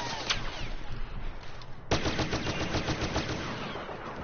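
Rapid gunfire from a Star Wars video game crackles as a quick burst, then a sustained stream of fast shots at steady volume.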